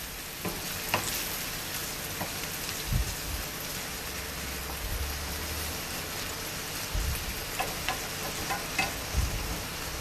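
Poor man's chow mein noodles fry in a pan toward brown and crispy, giving a steady loud sizzle with a few light clinks and scrapes over it.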